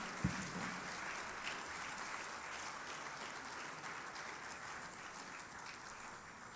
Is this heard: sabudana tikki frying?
no